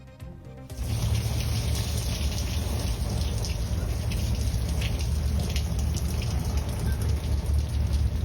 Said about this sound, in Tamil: ரயிலில் 3rd ஏசி பெட்டியில் கொட்டிய மழைநீர்